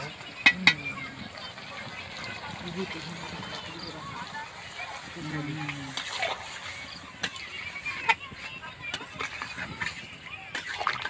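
Water pours into a pot of duck curry with papaya, a soft splashing and sloshing with a few sharp clinks, heard fairly faintly and close.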